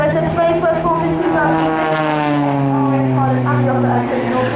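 An Extra 300 aerobatic propeller plane flies in a display at the Eastbourne airshow, its engine drone loud and steady with the pitch sliding downward as it passes, joined by a voice talking over it.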